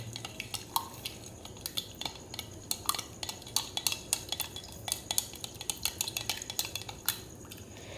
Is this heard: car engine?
no